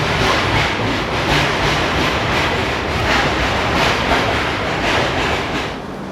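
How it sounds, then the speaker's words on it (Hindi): Passenger train pulling into Jaipur Junction, a loud continuous rumble with rhythmic wheel clatter across the rails, steady throughout and easing slightly at the end. "यहाँ पर हमारी ट्रेन पहुँची है 13 मिनट बिफोर टाइम"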